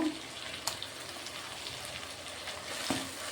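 Tomatoes and poppy seed paste frying in oil for posto begun, a steady soft sizzle throughout with a couple of brief clinks, no talking.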